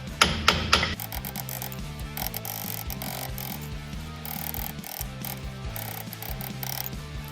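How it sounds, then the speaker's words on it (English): A hammer knocks a brake caliper off a Toyota Hilux during a wheel bearing regrease. A few sharp, loud metallic taps come first, then rhythmic knocks continue under steady background music. "start slightly hammering the caliper off"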